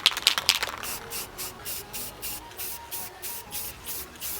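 Short spray-gun bursts of clear coat on a BMW E46 M3 roof rail moulding, a steady run of about eight hissing pulses with brief gaps between them, close and moderately loud.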